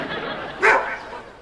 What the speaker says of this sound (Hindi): बहुत कुत्ते हैं यहाँ।